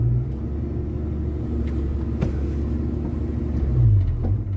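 A carbureted 1981 Ford Mustang engine runs roughly, struggling to keep going, with a steady low rumble and uneven idle close by and no talking.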